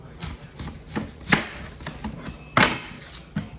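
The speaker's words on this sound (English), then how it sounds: "we're gonna do the onion next" A knife chops through an onion on a cutting board in a kitchen, making a string of uneven, sharp cuts. Two hits land harder than the rest, and no one talks.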